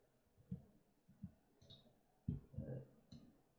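Computer mouse clicks during After Effects editing, a handful of soft, close, irregular clicks over a quiet background.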